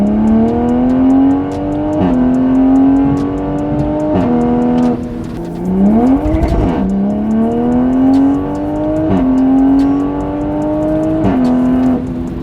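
A 2020 Toyota Supra with a catless downpipe and tune revs and accelerates hard, its engine note climbing repeatedly through gears with sharp shift breaks, loud and close with a brief swelling rush midway.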